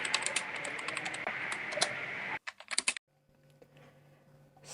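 Typewriter keys clatter in a rapid, steady run as the Indonesian independence proclamation text is retyped in a school reenactment, then a brief burst of strikes before falling to a low, quiet hum.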